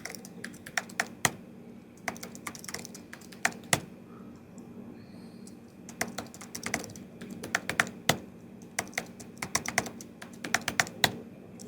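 Rapid keystrokes on a computer keyboard while entering a passwd command in a Linux terminal, irregular clusters of crisp clicks separated by short pauses, close and fairly quiet with no talk.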